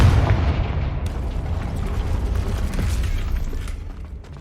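A Confringo fire spell explodes in Hogwarts Legacy, a loud low booming blast at the start that rolls into a rumbling, crackling tail, fading slowly over a few seconds.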